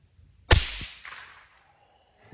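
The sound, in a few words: suppressed rifle firing supersonic round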